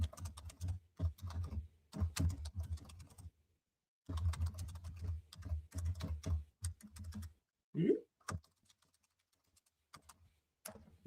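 Brisk computer keyboard typing in close clusters of quick clicks, pausing briefly, then resuming in uneven bursts with a few isolated taps.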